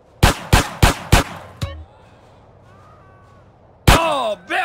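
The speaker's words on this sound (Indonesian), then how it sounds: "Kita coba belajar menembak di sini," Four loud gunshots fire in quick even succession at a shooting range in the video game GTA San Andreas, followed by a fainter fifth shot and a quiet pause before in-game dialogue starts.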